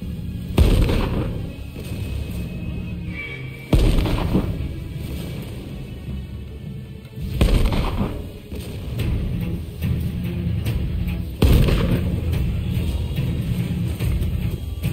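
Cannons in Rise of the Ronin fire in heavy booming blasts, four loud shots spaced a few seconds apart, each followed by a long rumbling roll of battle noise.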